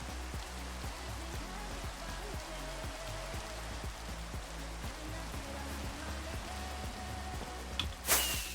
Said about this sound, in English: it's so hard to see with the rain.